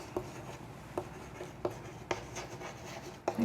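A pen writes a maths statement by hand on paper, giving soft scratchy strokes with several light taps as the pen lands, close and quiet.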